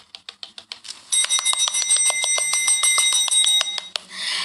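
A bell rings during a Thai lottery-results celebration broadcast, starting with a quick series of separate dings and then swelling into a loud, continuous ringing that stops abruptly near the end.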